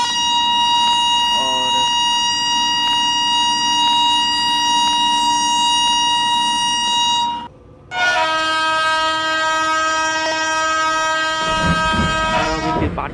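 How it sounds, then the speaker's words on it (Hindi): Long, loud train horn in the Indian Railway Simulator game: a sustained multi-tone blast of about seven seconds, a brief gap, then a second, higher-pitched blast of about five seconds over the rumble of the locomotive. "तो टाइम आ चुका है डिपार्ट लेने का, तो एक लंबा सा हॉर्न मार लेते हैं"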